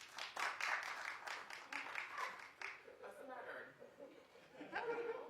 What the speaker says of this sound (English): Clap if you watch, for real